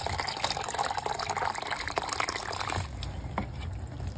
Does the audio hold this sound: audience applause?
no